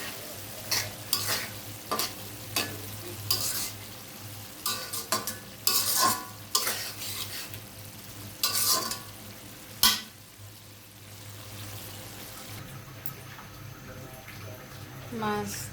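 Rohu fish curry with thin lentils and bean seeds stir-fried in a pan over a low gas flame, with scattered scraping spatula strokes and bursts of sizzling over a steady low hum.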